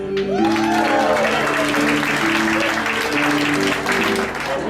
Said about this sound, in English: I want you to clap if you like country music.